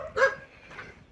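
A dog gives a single sharp, close bark followed by a fainter, softer second yelp indoors, with no one speaking.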